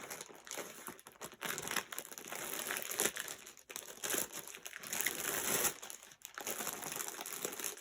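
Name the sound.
bag rustling while unpacking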